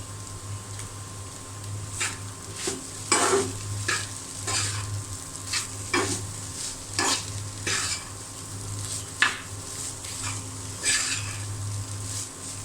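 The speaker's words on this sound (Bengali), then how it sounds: "সুন্দর করে আমি নেড়ে ছেড়ে দেব।" Noodles tossed with packet spice mix in a pan, a soft steady sizzle broken by repeated scraping stir strokes at irregular intervals, close and clear with a low hum underneath and no voices.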